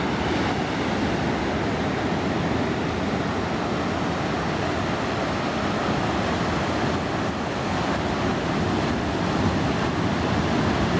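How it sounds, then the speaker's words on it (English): Ocean waves wash up and draw back over the sand at Mission Beach, San Diego, a constant broad surf roar with some wind across the microphone and no voices. "the water sucks back in to the sand."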